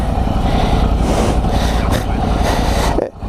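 A Ducati Multistrada 1100S adventure motorcycle with an air-cooled V-twin engine rumbles steadily and loudly nearby, dropping away briefly at the end.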